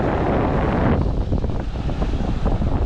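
Wind gusting and ocean waves surging around a boat on the open Pacific, a steady loud roar of broadband rush with no breaks throughout.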